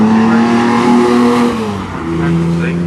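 A Jaguar XJS race car at Mallory Park roars across the start-finish line at full throttle, its engine loud and close, the pitch dropping as it passes, with a commentator talking over it.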